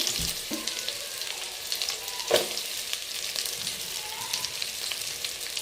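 Cumin seeds and chopped onions fry in hot oil for kuska biryani, a steady close sizzle and crackle with occasional stirring scrapes and no talking.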